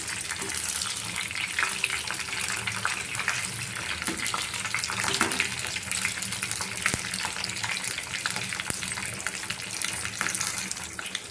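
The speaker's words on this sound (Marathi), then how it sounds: "म्हणजे दुसरी साईड त्याची आपण तळून घेणार आहे." Stuffed capsicums (bharva shimla mirch) frying in a pan as they are turned to cook the other side: a continuous soft crackling sizzle, close and fairly quiet, with a few sharp clicks.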